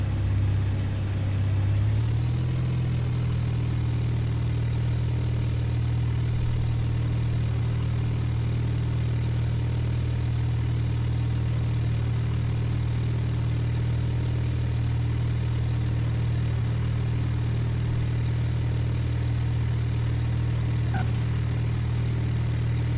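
Cessna light aircraft engine on takeoff in Flight Simulator 98: a steady, loud droning hum that rises briefly at the start, then holds an even propeller-engine tone throughout with no talk.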